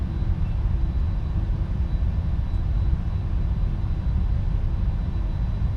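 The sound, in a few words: PMDG Boeing 747-400 taxiing at Schiphol, from Prepar3D flight simulator video game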